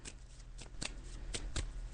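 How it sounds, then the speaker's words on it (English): Tarot cards riffle in a few quick shuffles, each a soft brisk burst, close but faint against a quiet background. "I'm just shuffling the cards now."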